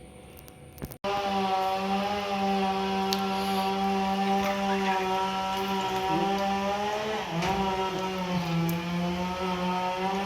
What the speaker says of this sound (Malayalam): അവിടെ മരം മുറിക്കണ ശബ്ദം കാരണേ കേൾക്കാൻ പറ്റില്ല